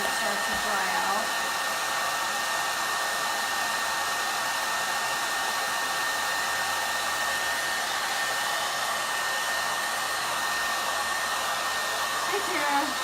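A hair dryer blows cool air over a chalk-paint craft surface, producing a steady, close, uninterrupted whoosh from start to finish.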